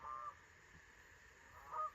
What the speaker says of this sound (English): The geese are confirming.